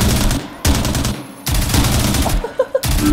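Rapid automatic gunfire sprays in loud sustained bursts in the video game Zero Hour, with short pauses between volleys and a few sharper impact sounds near the end.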